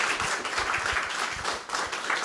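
An audience claps and applauds at a live concert and interview event, a dense wash of hand claps that stays moderately loud and steady for a couple of seconds with no voices on top.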